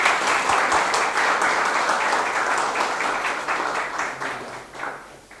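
A room of listeners applauds after a talk on rain gardens, a steady burst of dense clapping that holds for several seconds, then thins and fades out near the end.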